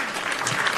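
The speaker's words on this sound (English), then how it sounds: "really quick round of applause for our guy Pete here" Quick round of applause on a live wrestling talk show, a brief burst of dense, steady clapping at close range with no pause.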